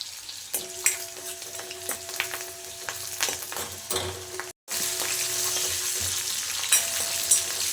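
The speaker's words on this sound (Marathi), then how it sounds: "मिरची चांगली तेलामध्ये परतून घ्यायची." Green chilies fry in hot oil with a continuous crackling sizzle, close and fairly loud, punctuated by sharp pops and stirring clatter, with a brief cut partway through.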